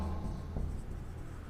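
Marker or chalk writing a definition on a board during a chemistry class, making faint, continuous scratchy strokes over a low room hum.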